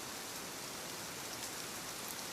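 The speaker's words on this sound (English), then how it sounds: "Outside, rain crossed the roof in soft, uneven whispers." Rain patters steadily on a roof in soft, uneven whispers, a continuous close wash of hiss with no other sounds.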